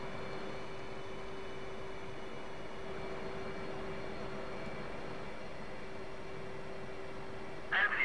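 Steady jet engine whine and broad rumble from an F/A-18C Hornet taxiing in the flight simulator DCS World, an even, unbroken drone with a faint tonal hum throughout and a brief louder blip near the end.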